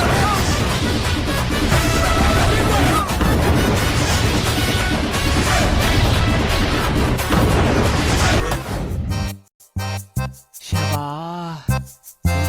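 A dense barrage of loud cracking bangs from Diwali firecrackers fills most of the stretch, then stops abruptly, followed by a few short sharp pops and a sweeping whistle.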